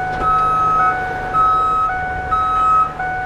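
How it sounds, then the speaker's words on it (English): Rear backup beeper of a 2003 Ford E150 cargo van sounds loud and close, three evenly spaced electronic beeps repeating over a steady idling engine. "Got your rear backup beeper to warn people behind you that you are moving backwards."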